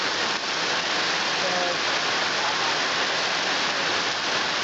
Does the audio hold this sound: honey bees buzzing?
no